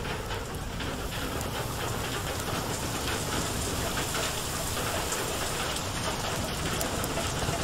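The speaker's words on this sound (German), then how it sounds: "Ich höre Gewitter." Steady heavy rain from a thunderstorm in the video game Far: Lone Sails, a dense continuous wash of falling water at an even level with no voices over it.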